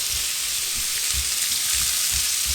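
Sliced red onion sizzling loudly in hot oil in a pan for a burger relish, a dense, steady hiss close up with faint low thumps of stirring underneath.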